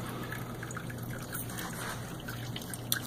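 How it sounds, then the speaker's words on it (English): Water is pumped down and trickles into the bottom tank of a fish tank setup. It makes a continuous, close splashing trickle with scattered drips, and one sharper splash comes near the end. "when the water comes into this bottom tank, it's getting blurry, it helps aerate the water for the fish"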